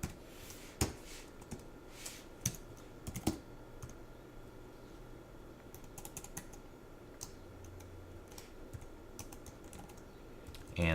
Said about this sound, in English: let me type here for a second